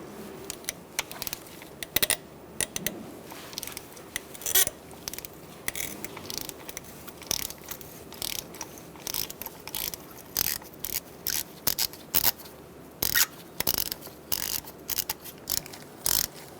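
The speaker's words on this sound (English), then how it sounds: "I'm going to use a 5/8 spark plug socket and an extension and my ratchet, and we're going to unscrew the spark plug" A hand ratchet fitted with a 5/8 spark plug socket and extension clicks steadily as it unscrews a spark plug from a 2012-2017 Hyundai Accent 1.6L four-cylinder engine, a close, continuous run of rapid pawl clicks with brief pauses.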